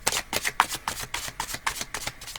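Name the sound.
shuffling a deck of cards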